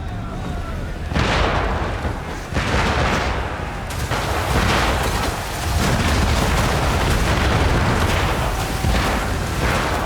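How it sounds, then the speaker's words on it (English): Mortar fire in a video game, with repeated deep booming blasts and explosive bursts over a constant loud rumble of battle noise, arriving every second or two and close and heavy throughout. "Mortars!"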